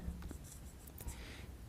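A nearly dried-out marker drags across a classroom board during a maths lesson, giving a few short faint squeaks and scratchy strokes over a low, steady room hum.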